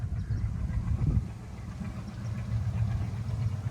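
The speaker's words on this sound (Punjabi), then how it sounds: "ਉਹ ਦੇਖੋ ਟ੍ਰੇਨ ਆ ਖੇਤ ਚੋਂ ਨਿਕਲਦੀ ਆ" A low, steady rumble of a train bound for Ganganagar rolling past at a distance through Rajasthan farm fields, dull rhythmic rail noise with wind-like hiss, no voices.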